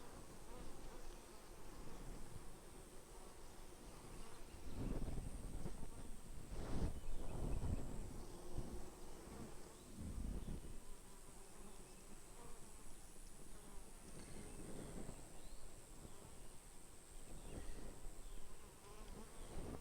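Dense, steady insect buzzing from many honey bees at a hive, continuous throughout with a few louder close passes, no talking.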